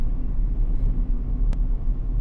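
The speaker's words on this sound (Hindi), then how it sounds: "अब देखिए सामने से भी गाड़ियाँ आ रही हैं" Steady low rumble of cars moving through a busy road junction, engine and tyre noise blending into a continuous near drone with no distinct passes, no talking.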